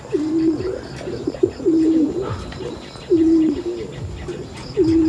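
A pigeon coos in repeated low, throaty phrases, close by, with faint chirps and outdoor background noise between the calls.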